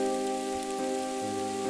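Torrential rain pours outdoors in a steady, dense hiss that never lets up, with sustained musical tones droning beneath it the whole time.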